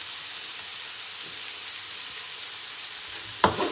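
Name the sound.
mixing stir-fried vegetables in a pan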